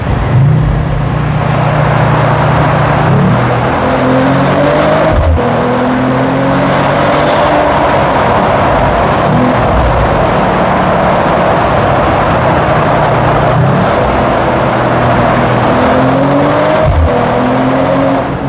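Loud, roaring engine of a Mercedes-AMG CLE 53 Cabriolet with the top down, revving up through the gears in a tunnel, repeated surges and shifts echoing in the enclosed space, with constant rumbling road noise.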